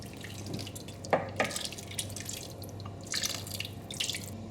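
Hot water pours into a pot of rice and chicken for a Bangladeshi chicken pulao, a soft trickling with a few splashy drips, steady and close with no talking.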